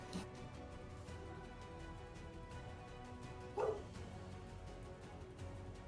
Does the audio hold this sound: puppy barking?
yes